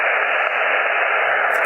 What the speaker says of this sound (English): So you can see the static.